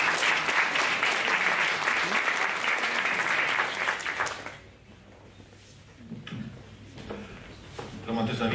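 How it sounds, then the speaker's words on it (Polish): Audience applause at a gala finale held in Google's Polish office, loud and dense for about four seconds, then dropping away to quieter room noise with a few scattered claps and talk. "prosimy o brawa"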